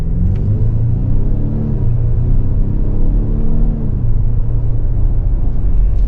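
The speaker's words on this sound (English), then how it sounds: "The 2-liter EcoBoost under load is going to be a little noisy" A 2024 Lincoln Nautilus with a 2-liter EcoBoost engine accelerates under load, a loud, steady engine drone and road rumble from inside the cabin, with the pitch climbing through the run and no voices.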